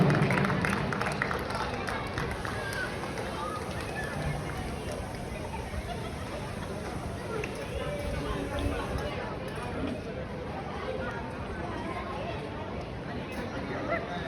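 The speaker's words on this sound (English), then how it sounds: "All the spectators, can you please have a big round of applause?" Spectators at a community football season final applaud together, a steady wash of clapping mixed with crowd chatter and babble that holds evenly for the whole stretch.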